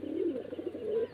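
Pigeons returning after a night out coo steadily in low, rolling phrases, close and moderately loud, without a break and with no voices over them.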